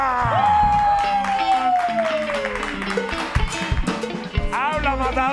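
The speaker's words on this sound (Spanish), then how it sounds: "¡Aplauso a Googie!" A studio audience on a Spanish-language TV show bursts into applause with cheers and whoops, a lively clatter of clapping following a loud, drawn-out shout from a man.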